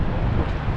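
Wind gusting across a high mountain pass on the Tour du Mont Blanc in Italy, near Refugio Elena, makes a steady, loud rumbling roar that buffets the microphone without a break.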